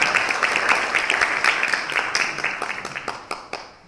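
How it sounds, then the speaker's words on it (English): Audience at a corporate governance panel discussion applauding a speaker, a fairly loud patter of many hands clapping steadily and gradually thinning out toward the end. "Please give us a round of applause"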